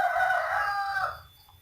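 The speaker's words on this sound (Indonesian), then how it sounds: "suara jago atau ayam jantan berkokok" A rooster crows once nearby in a rural village backyard garden, a loud drawn-out call that fades away with no voices.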